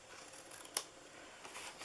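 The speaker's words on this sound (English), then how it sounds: "Cut the tops off of this one and this one." A single quick snip of scissors cutting the flaps of a handmade Easter bunny gift box, one brief, fairly faint crisp cut in otherwise quiet surroundings.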